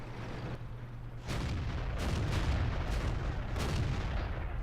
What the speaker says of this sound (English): I have a shot at it as well, which I think probably may have missed.